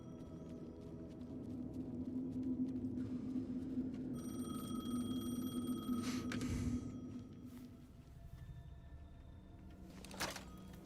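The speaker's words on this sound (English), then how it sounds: "The payphone was ringing." Payphone ringing in the Alan Wake 2 video game, a moderately faint electronic ring layered over a low ambient hum, with a brief noisy swell midway and a sharp knock near the end.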